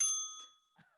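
A single bright bell ding from a sound-guessing game segment, ringing out loud and clear before decaying, followed by a brief faint voice.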